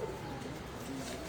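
Pigeons cooing softly on a rooftop, a couple of low, faint coos over a steady background hum, brief and fairly distant.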